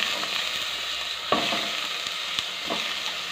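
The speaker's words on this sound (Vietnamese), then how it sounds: "cho cái số xương đã trần qua vào mình xào qua này" Pork bones stir-fried with garlic and shallots in a pot make a steady, loud sizzle, broken by occasional scraping stirs close by, with no speech.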